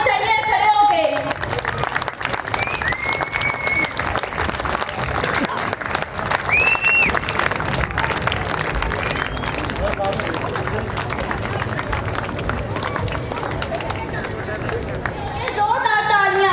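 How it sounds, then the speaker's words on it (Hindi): An audience claps at an annual school prize distribution, steady dense applause lasting throughout, with crowd chatter and a voice talking over it. "आप सबकी बहुत ज्यादा तालियां होनी चाहिए खड़े होके।"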